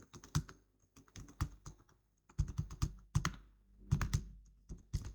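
Keys clack on a computer keyboard in quick irregular clusters, close and fairly quiet, with short pauses between bursts of typing and no talking.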